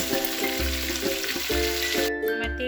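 Prawns frying in hot oil for a Bengali prawn malai curry, giving a steady close sizzle with a few rhythmic low clunks of a pan or spatula, alone without speech.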